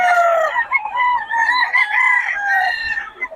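A seven-month-old stag rooster crows loud and close at a market, one long hoarse cock-a-doodle-doo stretching across the whole moment with no talk over it.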